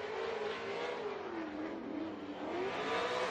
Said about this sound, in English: Look at that, lighting up the tires, already out of the gate.